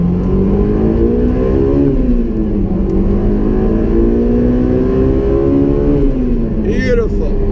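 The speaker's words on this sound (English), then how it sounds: "You want to listen to the car." A Honda S2000 sports car engine hums close up on a test drive, its pitch climbing and dipping as it accelerates and shifts.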